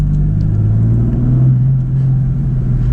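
A 2018 BMW M4 convertible with a manual gearbox, engine pulling hard from low revs, a deep steady rumbling drone close by with wind and road noise, no talk.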